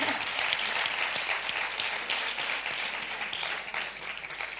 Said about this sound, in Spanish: Eses aplausos.